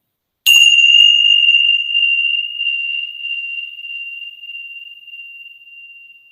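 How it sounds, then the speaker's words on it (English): A meditation bell for heart chakra practice is struck once, sharp and clear, then a single pure ringing tone hangs and slowly fades in otherwise silent surroundings. "I will ring these bells that resonate with your heart chakra."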